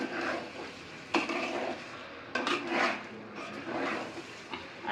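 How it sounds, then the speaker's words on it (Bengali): A spoon scrapes and stirs beef with ground spices in a hot pan for Bangladeshi kala bhuna, with repeated clattering strokes against the metal over a soft, continuous sizzle, close up. "সবগুলো মশলা দেওয়ার পর ভালোভাবে নেড়ে চেড়ে দিচ্ছি।"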